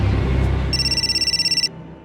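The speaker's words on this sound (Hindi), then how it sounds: "घंटी बजी।" A phone rings with a steady electronic trill, pulsing rapidly for about a second over a low background rumble, then stops.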